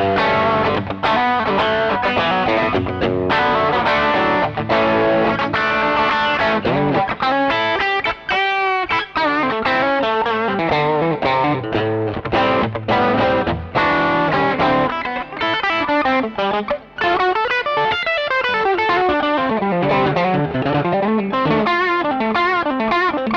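A YMS TM Plus electric guitar played on its bridge pickup with heavy distortion and effects, including chorus, plays a continuous riff-and-lead passage. It is loud and dense throughout, with sustained bends and fast note runs and no talking.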